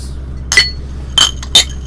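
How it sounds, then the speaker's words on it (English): Glasses clinking together in a toast at the close of a music show hosted with vodka, three bright clinks spaced over under two seconds, near and crisp against a low steady hum. "Clink, clink, clink."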